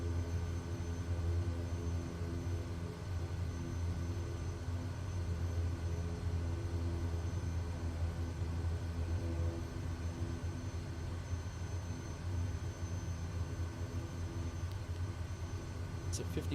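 Kodiak 100 aircraft engine in Microsoft Flight Simulator 2024, a steady low droning hum that holds evenly throughout at moderate level, with no clear break or change in pitch.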